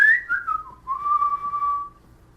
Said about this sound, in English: I'm trying to learn how to whistle.